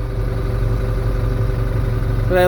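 Farmtrac 685 DT tractor with an AGROMASZ Ł-106 front loader working, a loud, steady low diesel drone close up, with a rising whine near the end.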